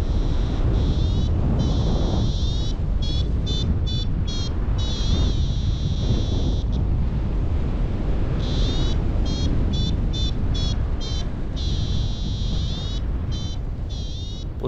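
Strong wind buffets the microphone continuously at a paragliding launch site, a loud steady rumble with no let-up, while a high electronic beeping, likely a flight instrument, chirps intermittently over it.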